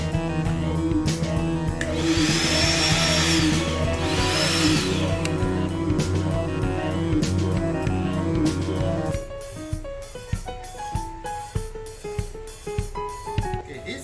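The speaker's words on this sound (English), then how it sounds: "I'm going to inflate this float up." An electric air pump inflating a car airbed drones loud and steady for about nine seconds, then cuts off, leaving scattered clicks and handling sounds.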